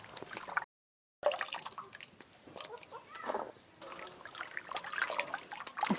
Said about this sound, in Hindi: पानी में डाल ली है। अच्छी तरह से इसको धो लेती हूँ इस तरह से।